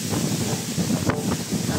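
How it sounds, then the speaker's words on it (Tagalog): Strong wind buffets the microphone in a constant roar near a cave and rock formation at Hulugan Falls, Luisiana, Laguna, with gusts swelling and easing over a couple of seconds. "Lakas ng hangin dito mga kasama."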